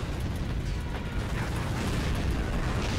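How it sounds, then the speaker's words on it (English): Airstrike explosions in the toy-soldier strategy game Army Men of War during a beach retreat: a continuous, fairly distant rumbling roar of blasts with faint crackling bursts, no voices. "Calling in an airstrike."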